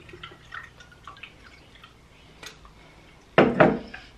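A cinnamon drink is poured into a pot as a brief splashing gush near the end, preceded by faint kitchen clinks and drips in a quiet room.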